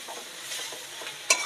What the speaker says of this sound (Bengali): এবার আমি গরম জলটা ঢেলে দেবো।